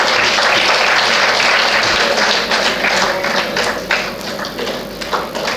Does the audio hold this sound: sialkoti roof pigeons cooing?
no